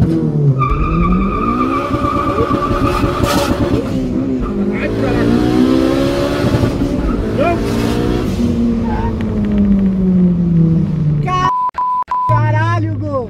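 A 380 hp Honda Civic Si race car accelerates hard on a track, its engine revving up through the gears with a loud, close whine and tire squeal, while excited voices talk over it.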